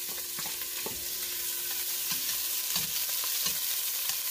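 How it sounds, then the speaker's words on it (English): Onions and green peppers fry in hot cooking oil in a pot over medium-high heat, giving a steady close hiss of sizzling with occasional soft stirring clicks and scrapes. "first thing you want to do is heat a little bit of cooking oil in the bottom of your pot and put your onion"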